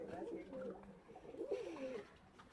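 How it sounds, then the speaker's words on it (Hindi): Madrasi pigeons coo softly inside a loft, two low throaty cooing phrases close by and fairly quiet, with faint background noise. "ये मद्रासी कबूतर कालियां।"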